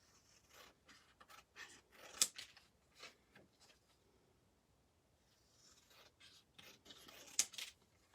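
Scissors snip through a sheet of paper while a gift card envelope is being made, giving a quiet series of close, crisp cuts in uneven bursts with brief pauses between them and no voices.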